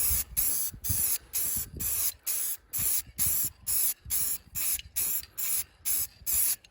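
Spray paint is laid on heavily over a face mask in about a dozen short, sharp hissing bursts with brief gaps between them, close and loud, with no voices.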